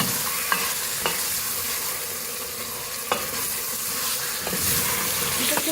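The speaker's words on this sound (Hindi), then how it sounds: "मिक्स करेंगे, इसको भूनेंगे अच्छी तरह से।" Chicken frying with spices in a pan, giving a steady, close sizzling hiss broken by occasional scrapes and clinks as a spoon stirs it. No one speaks.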